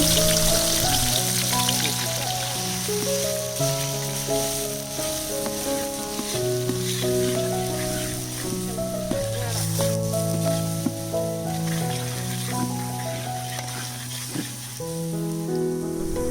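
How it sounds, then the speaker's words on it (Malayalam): Crushed ginger, garlic and green chilli sizzle in hot coconut oil at an outdoor cook, giving a steady, crackling fry under loud background music. "ആ വെളിച്ചെണ്ണ നല്ലോണം ചൂടായതിനു ശേഷം നമുക്ക് അതിലേക്ക് ചതച്ച് വെച്ച് ഇഞ്ചി വെളുത്തുള്ളി അതുപോലെ പച്ചമുളക് ഇത് മൂന്നും ആഡ് ചെയ്തെടുക്കാം."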